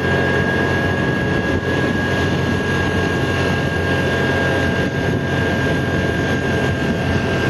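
Heavy trucks parked along a roadside near Casablanca run their engines at idle, a steady, loud low drone with a faint high whine throughout and no talking.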